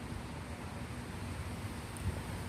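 Steady wind blowing outdoors in an orchard while fruit trees are being pruned, a continuous broadband rush with low gusty rumble, moderately loud and unbroken, with no voices.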